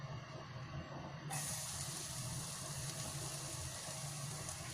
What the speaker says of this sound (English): first you heat up the pan with oil and then you put in the garlic